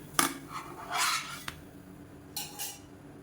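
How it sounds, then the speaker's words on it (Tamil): Sivapparisi adai, a red-rice flatbread, being moved onto a plate, giving a few sharp clinks and scrapes of a utensil against dishware, with quiet pauses between them and no talking. "இப்போ இதை பிளேட்டுக்கு மாற்றிக்கலாம்"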